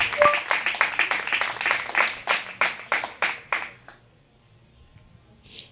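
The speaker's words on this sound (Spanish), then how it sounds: "Den un aplauso al Eterno porque Él es nuestro shalom" A church congregation claps in praise during a Spanish-language service, a run of loud rhythmic claps that thins out and fades to near silence after about four seconds, one faint late clap.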